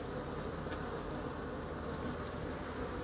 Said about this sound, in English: Right here, see those bees fanning?